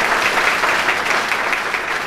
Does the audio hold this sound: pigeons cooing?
no